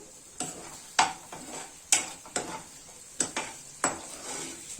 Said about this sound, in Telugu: ఫ్రై చేసిన పన్నీర్ వేసుకొని బాగా మిక్స్ చేస్తాము